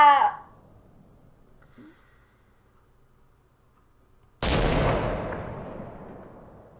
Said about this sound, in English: There's no silencer on this thing.